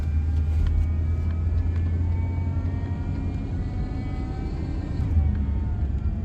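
A car that shakes from the rear end drives along with a steady, loud low rumble of engine and road noise, a constant drone with no speech.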